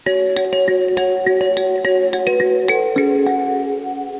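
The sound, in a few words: mbira playing both hand parts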